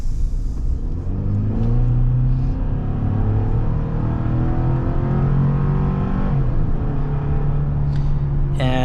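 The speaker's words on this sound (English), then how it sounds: "this four-cylinder engine definitely pushes you back to the seat" A 2022 Chevy Silverado four-cylinder pickup engine accelerating hard, a steady loud rising drone with climbing harmonic pitch that dips briefly near the end and then pulls again, heard from inside the cab without talk.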